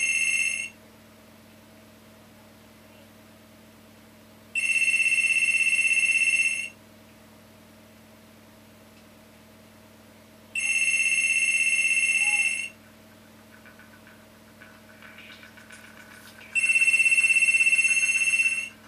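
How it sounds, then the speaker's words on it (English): A telephone rings in three long electronic bursts of about two seconds each, separated by pauses, over a quiet steady computer hum, with faint noise between the last two rings. "phone's ringing."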